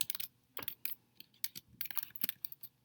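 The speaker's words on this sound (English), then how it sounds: "I'm just typing in exactly what I see on my paper" Quick bursts of typing on a computer keyboard, clicking in irregular clusters with short pauses between runs of keystrokes, close and fairly quiet.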